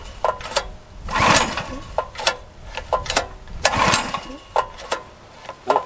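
A Stihl MS440 chainsaw is pulled to start with choke and fuel on, producing repeated sharp pull-cord rasps and short sputtering bursts at close range, without settling into a steady run.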